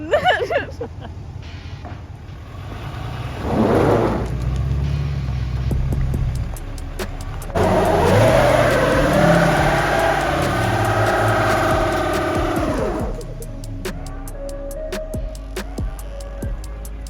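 A two-wheel-drive 4th Gen truck stuck in mud, its engine revving and wheels spinning in long surges under steady background noise, with people talking and shouting nearby.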